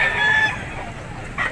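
A gamefowl stag crows briefly at an outdoor pet market, loud and close, trailing off quickly, with crowd noise and another faint bird call near the end.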